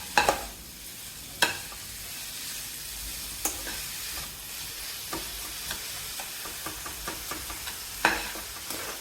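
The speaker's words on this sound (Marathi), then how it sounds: "2 चमचे ॲड केलेली साखर आपण मिक्स करून घेऊया नीट" Pumpkin halwa being stirred with two spoons of added sugar, a soft steady sizzle beneath a string of sharp spoon scrapes and taps against the pan, loudest near the start and end.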